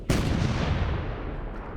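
Heavy 8-inch howitzers firing point blank at a stone legislative palace in a war battle scene: a loud, close blast opens into a sustained thunderous roar and rumble that holds for the rest of the moment.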